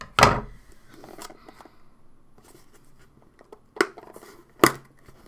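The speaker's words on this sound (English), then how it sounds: "I have my handy dandy scissors and my fancy blue box, and we're going to cut it open." Scissors cutting open a blue cardboard yarn subscription box: a few sharp, close snips and thuds separated by quieter rustling and handling noise, without speech.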